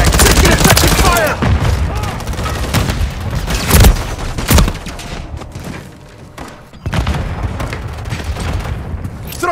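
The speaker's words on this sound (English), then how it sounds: "Taking effective fire!" Gunfire in Call of Duty MWIII multiplayer domination, loud bursts of automatic shots and heavy thumps in rapid clusters with brief lulls, close and dense.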